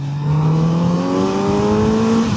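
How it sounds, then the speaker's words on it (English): Close, loud Kawasaki Z900RS motorcycle engine drone rising steadily in pitch as it accelerates through second gear, with a rough induction roar throughout. "That induction noise is absolutely beautiful."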